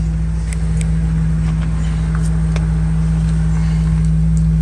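Ford truck engine running in neutral with a steady, loud low hum and drone and faint ticking on top, unchanging throughout.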